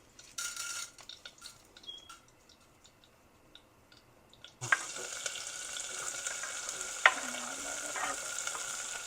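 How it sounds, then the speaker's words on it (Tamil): Mustard seeds, chana dal, urad dal, fennel and turmeric hit hot oil for Coimbatore-style poori masala, bursting into a loud, steady sizzle after a few quiet stirring clinks, with a scrape of the spoon partway through. "எண்ணெய் நல்லா காஞ்சது. கடுகு, கடலைப்பருப்பு, உளுந்து பருப்பு, 2 சோம்பு, கொஞ்சம் மஞ்சள் பொடி. இப்போ எல்லாம் போடுறோம்."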